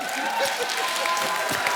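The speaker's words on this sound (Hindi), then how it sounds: "जोरदार ताली हो जाए।" Studio audience on a Hindi comedy talk show breaks into loud, sustained applause, a dense wash of clapping that continues steadily without pause.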